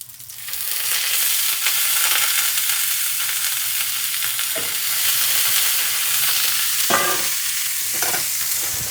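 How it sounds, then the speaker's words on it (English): Poached king oyster mushrooms sizzling in oil in a pan over medium-high heat, a steady bright hiss throughout with a few soft knocks and stirring bumps. "the ones that are poached, might sizzle a little bit because of the water"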